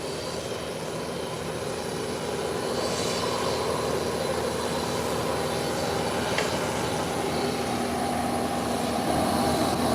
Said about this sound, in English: That flight is coming in gracefully.